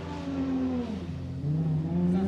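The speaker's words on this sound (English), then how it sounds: "And pulling up to the line now, have car number 318, Timmy Wu with the RSR and TRC." Drift car number 318, driven by Timmy Wu, pulls up to the start line at Ebisu Circuit West Course in Fukushima during qualifying: a steady, loud engine drone whose pitch sags and then climbs again, with no clear talk over it.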